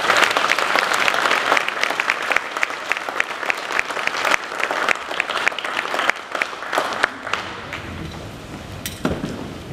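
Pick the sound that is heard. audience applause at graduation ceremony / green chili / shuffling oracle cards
audience applause at graduation ceremony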